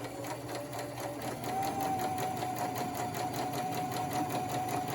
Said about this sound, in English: So now I'm just going to stitch some fabric.